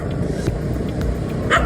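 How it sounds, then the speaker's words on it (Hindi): Local street dogs bark in short, loud, close bursts at local boys riding a bike, with traffic noise underneath. "वीडियो बाइक पर सवार लोकल लड़कों और लोकल कुत्तों की बातचीत पर आधारित है"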